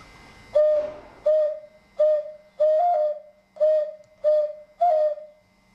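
A Gravina clay whistle (fischietto) imitates a cuckoo with seven clear, evenly spaced two-note calls, each short and bright, played close and alone.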